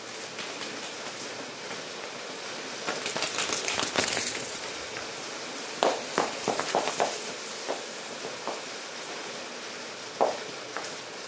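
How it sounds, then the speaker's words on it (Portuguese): Rain falls outdoors as a steady hiss, with scattered sharp taps and a few louder impacts standing out against the continuous patter. "Porque tá chovendo."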